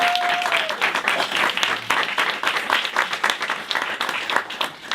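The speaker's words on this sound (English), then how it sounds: "give my business partner and my best friend of 20 years a big round of applause" Warm applause for a business partner at a business presentation, a full round of many people clapping steadily and close by, with no talk over it.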